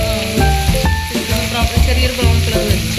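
Ginger frying in a pan for a papaya chicken curry, a dense, loud, close sizzle with stirring scrapes and tonal clinks over three seconds.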